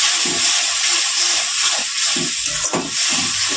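Spices and potatoes sauté in hot oil in a pan for a boal fish curry, giving a steady, loud, close hiss and sizzle throughout, with faint scraping stirs underneath.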